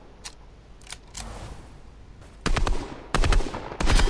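Gunfire in the Fortnite video game comes first as a few spaced single shots, then bursts into loud rapid automatic volleys that cut in and out near the end.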